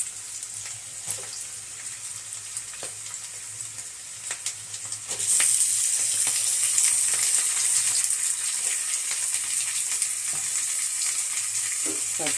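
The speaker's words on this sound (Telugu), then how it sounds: "ఇప్పుడు మనము ఈ ఉల్లిపాయల్లో ఈ చికెన్ వేద్దాము." Chicken goes into a pan of frying onions with a soft clatter, and a loud, dense sizzle jumps up partway through and continues steadily with occasional stirring scrapes, near and with no talk.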